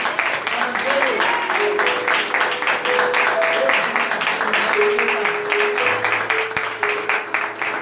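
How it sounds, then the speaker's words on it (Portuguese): A church congregation claps along throughout, dense continuous applause filling the room at a closing worship service, with a voice and sustained musical tones carrying over it. "Aplauda mais forte para Jesus."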